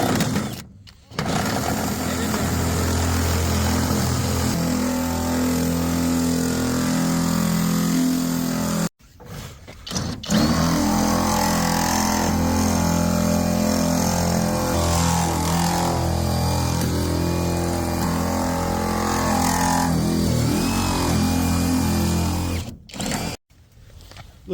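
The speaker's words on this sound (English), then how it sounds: "we got a drill with a 1/2 inch bit" A power drill fitted with a half-inch bit bores out a lock cylinder with a loud, sustained grinding whine that stops briefly twice before starting again.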